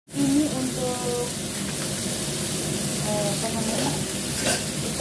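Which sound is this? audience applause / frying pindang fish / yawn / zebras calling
frying pindang fish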